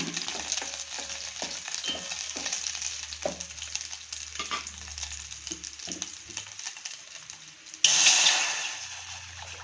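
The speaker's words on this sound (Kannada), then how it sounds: "ಅದೇ ಎಣ್ಣೆಗೆ ಇವಾಗ ಉಪ್ಸಾರು ಖಾರದ ನೀರನ್ನು ಹಾಕ್ತಾಯಿದ್ದೀನಿ" Oil crackles and sizzles with scattered pops, then spicy upsaaru broth is poured in and a sudden loud hissing surge rises before settling into a steady sizzle.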